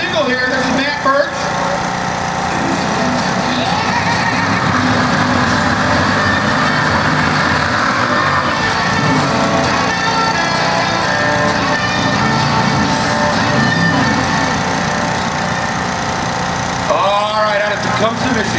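An 828 cubic inch mountain motor in a 2007 Mustang Pro Stock drag car at an IHRA event rumbles steadily and loudly throughout, with a voice talking over the engine noise.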